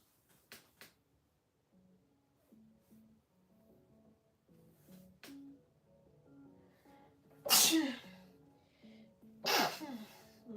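A single sharp human sneeze, loud and close, with a few softer breaths and faint indoor movement around it.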